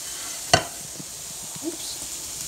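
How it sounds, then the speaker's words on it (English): Sausages go into a hot pan with a sharp clack, followed by a steady, soft frying sizzle and a few small stirring knocks, close by. "we're going to go ahead and we're going to add the sausages to this."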